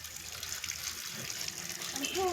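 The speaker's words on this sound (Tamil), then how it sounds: "கொஞ்சம் நல்ல ஃபோர்ஸை திறந்து விடு." Water runs from an opened pipe tap at a steady gush, close and continuous, with a faint voice briefly audible near the end.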